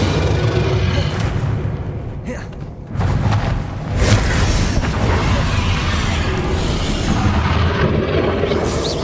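Bombarda blasting spell in Hogwarts Legacy, loud booming explosions and crashing impacts in a continuous dense battle din, with a brief dip before a heavy blast.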